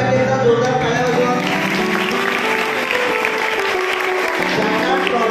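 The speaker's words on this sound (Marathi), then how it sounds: "सर्वप्रथम सर्व विजेत्यांसाठीचा जोरदार टाळ्या वाजवा." At a school elocution competition prize-giving, an audience claps steadily for the winners, a continuous wash of applause mixed with tonal sound and some talk.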